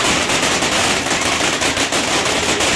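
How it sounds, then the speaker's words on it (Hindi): Firecrackers go off in a dense, continuous crackling barrage after fountain fireworks, loud and close, with rapid overlapping pops. "ऐसे चलती हैं कि अनारों की तरह तो ये शोले निकालते हैं और उसके बाद पटाखे निकलते हैं।"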